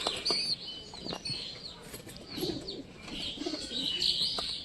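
Pigeon cooing and bird chirps at home, with soft wing flutters mixed in; the calls come and go steadily at moderate distance, alone with no talking.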